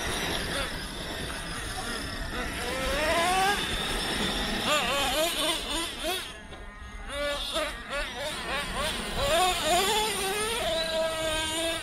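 Traxxas Erevo and Revo 3.3 RC cars doing donuts, a steady high-pitched whine rising and falling as the motors rev through repeated loops across the whole stretch, fairly loud and continuous.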